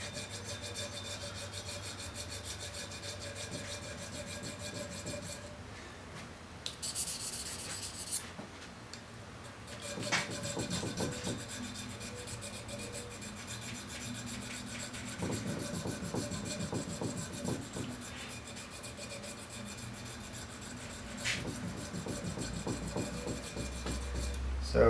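Small sharpening stone honing the heel and toe of a scorp's edge, with soft continuous rubbing strokes in uneven bursts, close and fairly quiet.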